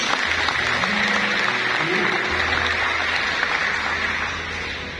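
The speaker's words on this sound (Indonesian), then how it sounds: "Tepuk tangan untuk Tuhan Yesus" Church congregation at a Christmas sermon in Manokwari, West Papua, clapping together in a sustained round of applause with a low hum beneath, easing slightly toward the end.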